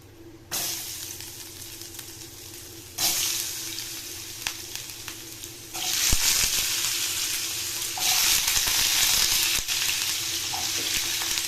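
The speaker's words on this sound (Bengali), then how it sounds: "5 ফোড়ন আর শুকনো লঙ্কা দিয়ে সঙ্গে সঙ্গে আলুটা দিয়ে দেবে" Potatoes dropped into hot oil with five-spice and dried chili, a steady loud sizzle that jumps up in stages as more goes into the pan, with occasional clinks.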